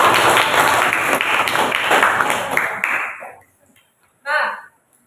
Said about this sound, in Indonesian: Boleh beri tepuk tangan dulu.